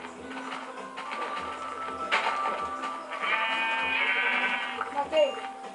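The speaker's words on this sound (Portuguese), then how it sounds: "Ali tem uma ovelha." A sheep bleats in the Minecraft video game, drawn-out nasal bleats mixed with game sounds and a person talking over them.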